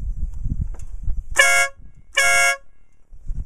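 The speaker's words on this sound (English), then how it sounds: "you can give them a blast of your horn" Two loud, blaring air horn blasts, each about a quarter second long, sound close by over low rumbling engine noise.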